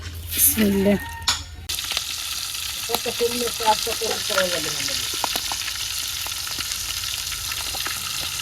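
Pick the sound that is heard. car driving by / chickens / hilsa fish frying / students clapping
hilsa fish frying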